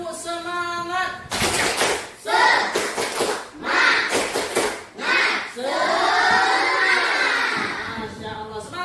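A group of students at a school assembly doing the 'tepuk semangat' clapping chant: bursts of rhythmic claps alternating with shouted chanting voices, ending in a loud sustained group cheer.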